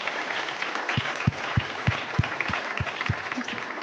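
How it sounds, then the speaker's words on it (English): A round of applause from an audience at a university ethics symposium, steady clapping with distinct loud claps standing out, continuous for several seconds. "One more round of applause, and for Bob for 20 years"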